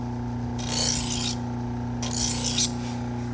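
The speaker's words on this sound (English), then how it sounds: "I'm going to go back and hit it on the rock hard, 2 swipes." A knife swiped twice across a hard sharpening stone, two broad rasping strokes standing out clearly over a steady low hum.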